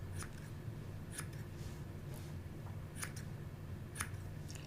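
Small scissors snip through a little piece of felting wool, giving several crisp, faint cuts spaced about a second apart against a quiet background.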